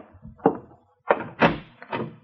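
An office door in an old radio drama opens and closes: a series of four hollow wooden thunks and clicks, close and fairly loud, with no talk over them.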